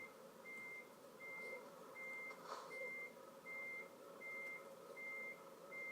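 Reversing beeps from a Volvo lorry in Euro Truck Simulator 2 repeat as a steady, evenly spaced series of short electronic tones over a low engine rumble, fairly quiet and alone.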